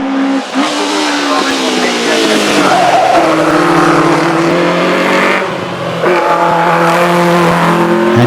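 A Ford Anglia saloon launches off the line at the Shelsley Walsh hillclimb, its engine screaming loud and close with climbing, strained revs, brief dips at gear changes and a hint of tire squeal.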